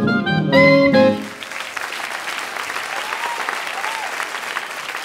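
At a jazz saxophone performance, a last held chord from the band gives way to a steady wash of audience applause that carries on evenly to the end.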